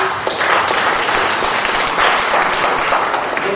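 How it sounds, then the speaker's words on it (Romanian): Audience applause at a Romanian writers' union event fills the room, dense sustained clapping from a crowd, loud and continuous with no talk over it. "Să-l aplaudăm"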